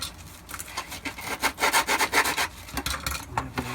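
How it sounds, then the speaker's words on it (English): A large X-Acto knife scoring and cracking a plastic armor piece for a Shadow Trooper build, heard as a series of close, gritty scraping strokes that grow into a rapid rhythmic rasp midway, then a few sharper cuts at the end, with no talking. "so I can make a cut here and here and just crack those two pieces off. I'll use the big X-Acto for that."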